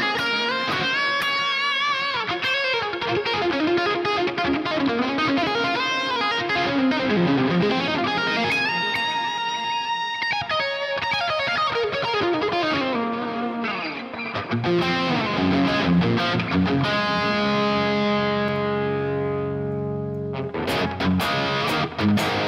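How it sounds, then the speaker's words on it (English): An electric guitar plays a lead line with a distorted tone, notes trailing into echoing repeats and a spacious reverb wash. "if I turn on some delay and reverb, it's going to be pretty much perfect as a lead tone"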